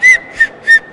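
Three short, bright blasts from a 3D-printed ABS plastic whistle, evenly spaced, loud and close, with a clear steady pitch and silence between them.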